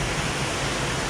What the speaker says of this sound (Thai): น้ำตกใส